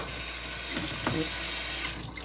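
Tap water runs steadily into a kitchen sink while rolled oats are prepared, a close, loud hiss lasting about two seconds before cutting off.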